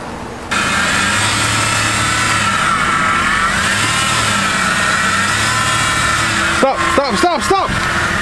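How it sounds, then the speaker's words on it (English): A car pulls slowly up into position for an oil change, its low engine hum running steadily and close by throughout, with a few brief clatters near the end. "Now I'll have Stacy drive up"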